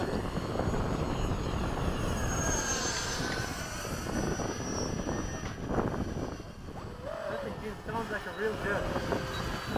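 An RC model warbird airplane with an unbalanced propeller drones with a buzzing engine tone that fades and returns as it flies past, while people talk over it.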